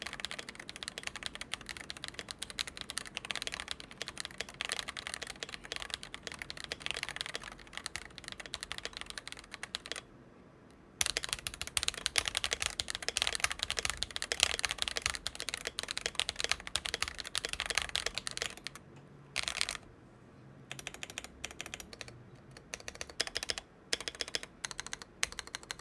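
Steady mechanical keystrokes on a stock Akko 5075B Plus keyboard, dense and continuous close-up typing with a brief pause near the middle and a few short gaps later, no voices.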